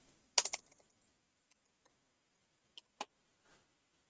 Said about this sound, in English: I need to type the password